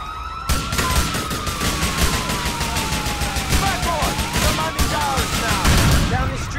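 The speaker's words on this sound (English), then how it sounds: "I shot my teammate, friendly fire. I'm missing every shot." Rapid gunfire in GTA 4 during a bank robbery shootout, dense bursts of shots rattling continuously under a wailing police siren, loud and close, with voices talking over it.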